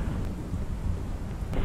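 Steady rain with low rumbling thunder from the horror video game Pacify, a dense continuous wash with a faint crack near the end, no voices.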